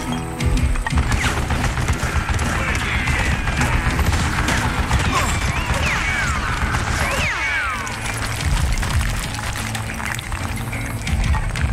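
Gunfire in the Call of Juarez Gunslinger game, a dense, chaotic fusillade of close and distant shots with crashing debris and ricochets throughout.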